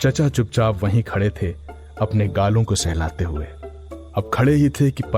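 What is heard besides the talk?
No everyday noises stand out.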